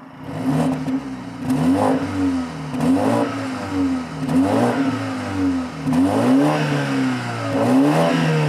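A 2020 BMW 320i G20 sedan's four-cylinder engine revs and accelerates repeatedly, its pitch rising and dropping through several gear changes in a loud, steady interior drone.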